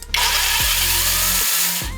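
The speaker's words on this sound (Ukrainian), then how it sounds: "Як ви почули, пилка має плавний пуск і миттєву зупинку двигуна." Gramd cordless chainsaw running loud and steady, its motor spinning up smoothly and dropping away abruptly twice when released, then quickly restarting, with no talk.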